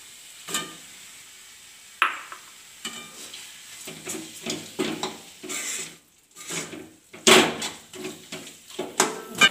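Chicken with turmeric is stirred and mixed in a pan for a vermicelli chicken biriyani, giving irregular scraping and clattering strokes over a faint sizzle, close by, with a few louder knocks.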